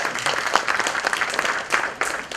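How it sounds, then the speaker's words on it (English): Applause from an audience at a morning session of an alumni gathering, a dense, loud wash of many hands clapping with a few sharper peaks, close and continuous. "So we should certainly give all of us a big round of applause."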